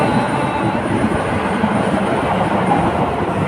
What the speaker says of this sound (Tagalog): nag-agi na po ang tren